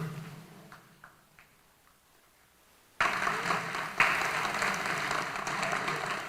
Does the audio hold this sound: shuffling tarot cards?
no